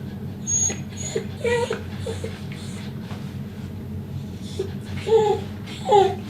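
A dog at a groomer's whimpers and whines in short, rising cries, a few scattered early and a louder pair near the end, over a steady low hum of the grooming room.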